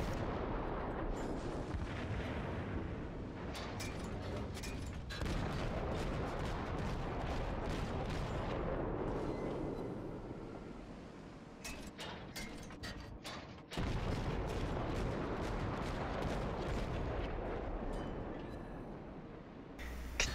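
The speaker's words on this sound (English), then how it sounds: "I begin to fire on a long-distance target, the high rate of fire of the St. Louis allowing me to quickly zero in on the target" St. Louis cruiser guns firing shells in the naval game World of Warships, a rapid, relentless series of loud booming salvos with rumbling between shots, briefly easing before resuming heavy fire.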